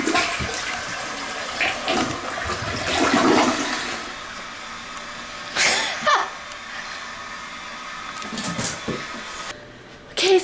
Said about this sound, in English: Whenever I flush the toilet